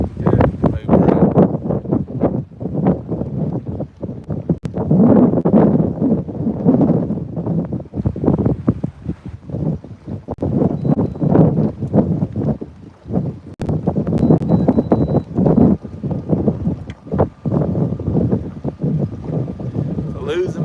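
Wind buffeting the microphone on a boat on the Tennessee River, with loud low gusts that swell and fade repeatedly and faint background noise underneath.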